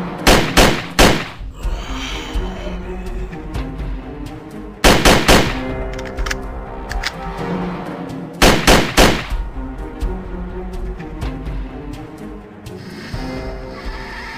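Gunfire in a zombie video game comes in sharp bursts of repeated shots with heavy thuds between them, loud and close over a continuous game soundtrack.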